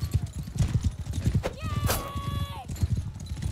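Galloping horse hooves thud in a rapid, rolling rhythm while riding in the video game Mount & Blade II Bannerlord, loud and close, with a brief horse whinny partway through and a voice talking over it.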